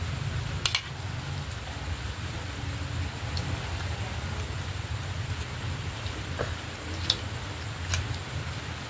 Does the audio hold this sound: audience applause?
no